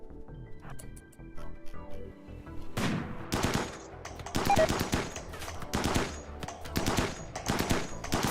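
Gunfire in RimWorld comes as rapid, repeated bursts of crisp shots in a steady, loud barrage following a short quieter lead-in, with a voice talking faintly beneath.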